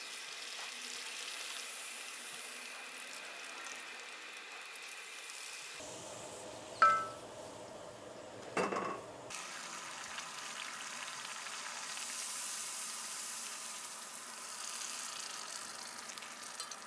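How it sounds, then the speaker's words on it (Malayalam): Puri fries in hot oil with a steady, soft sizzle, with a couple of brief clinks of a utensil partway through and no talk. "പൂരി രണ്ട് സൈഡും നന്നായിട്ട് മൊരിഞ്ഞിട്ടുണ്ട്. ഇതെടുത്ത് എണ്ണയിൽ നിന്ന് മാറ്റാം"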